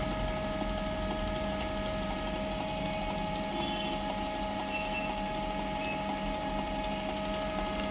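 Canon G2010 inkjet printer running its deep cleaning cycle, a steady close mechanical hum and whir with faint rattling vibration, continuous for the whole stretch with no talking.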